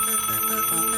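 A cartoon telephone rings with a bright, steady electronic trill that sustains without a break.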